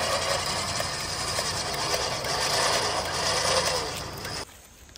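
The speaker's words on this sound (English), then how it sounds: "now you just winch as normal" A vehicle recovery winch on a Jeep Gladiator build pulls with a steady, rumbling mechanical drone. It runs evenly at moderate loudness, then cuts off abruptly just before the end, leaving near quiet.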